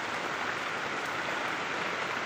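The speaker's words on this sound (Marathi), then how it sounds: "काहीच पाऊस बघा काही जोराचा आलेला आहे." Heavy monsoon rain pours down in a village, a dense, steady hiss of water that fills the whole stretch evenly and without letup, with no voices.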